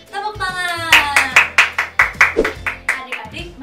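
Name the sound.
children clapping hands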